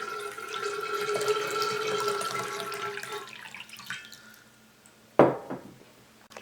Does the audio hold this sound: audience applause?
no